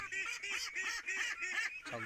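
Free-range farm ducks call in a steady run of nasal honking quacks, several birds overlapping at a moderate distance.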